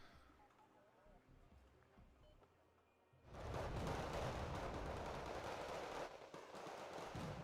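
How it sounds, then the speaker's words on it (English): Long-range machine gun fire in the wargame Wargame: Red Dragon, a sustained dense rattle of distant bursts that starts suddenly partway through and keeps going loud under a voice. "they are starting to take some long-range machine gun fire"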